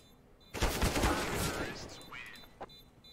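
Burst of automatic gunfire in an online shooter game, a dense rattling volley that starts abruptly and fades over a couple of seconds, followed by a single faint shot, at moderate level.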